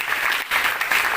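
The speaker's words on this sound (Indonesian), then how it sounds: "Tepuk tangan untuk temannya." Applause from an audience at an Indonesian naval air wing briefing, dense steady clapping with a brief dip partway through, fairly close and continuous.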